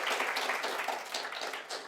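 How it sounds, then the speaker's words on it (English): Audience at a rural conference applauding panel members, a dense patter of clapping that swells and ebbs over a couple of seconds, fairly close and steady with no talk over it. "Give a round of applause to our wonderful panel members."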